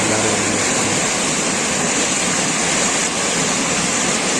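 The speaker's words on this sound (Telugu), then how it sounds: "చూడండి నీళ్ళు ఎలా పోస్తున్నాయో." Floodwater rushes loudly and continuously through an overflowing stream beside a flooded field after two days of heavy rain, a dense close roar with no pauses.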